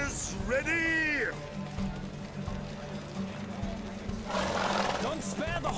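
Horses gallop with rapid hoofbeats and a whinny in a race in the video game The Witcher 3: Wild Hunt, while a person shouts over the thundering run.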